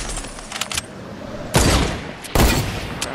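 Gunfire in a first-person video game shooter: a few loud, sharp broadband bursts stand out against a busy game background, with two heavier blasts spaced apart near the end.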